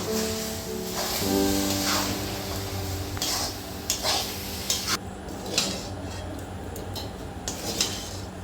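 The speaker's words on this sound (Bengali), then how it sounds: "এবার দিয়ে দিচ্ছি জল দিয়ে সুজিটা একটু নেড়ে নেব" Semolina is stirred with water in a pan, with a brief hiss as liquid meets the hot pan, then scattered scraping and clinking strokes of a utensil against the metal, close and moderately loud, no talking.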